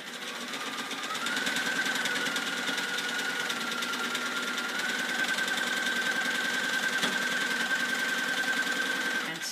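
Sewing machine running steadily while stitching a quilt block seam, a continuous close mechanical whir with a faint rhythmic needle chatter, no talking.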